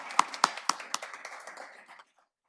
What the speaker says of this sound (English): Police Department's own Frank Landholm, who I think deserves a round of applause.